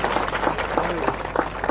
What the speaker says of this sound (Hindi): भजन मंडलियों का जोरदार ताली बजाकर हम अभिनंदन करें